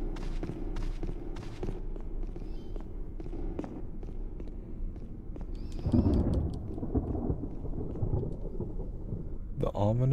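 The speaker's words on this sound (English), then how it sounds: "Ominous thunder and lightning." Rumbling thunder over steady rain in the video game Resident Evil, a continuous storm bed with a louder thunder swell midway and scattered footstep-like taps throughout.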